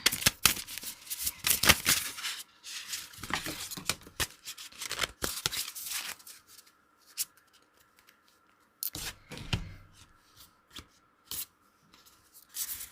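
Tarot cards handled and shuffled close by, a run of dense papery riffles and rubs in bursts with brief quiet gaps, no talking.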